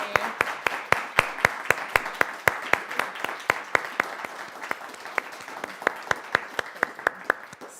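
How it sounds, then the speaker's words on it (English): A small audience at a music talk gives a sparse, steady round of applause, individual claps clearly separated in a brisk regular rhythm, moderately close, with no talking over it. "can we give a round of applause to Olivia for this wonderful conversation?"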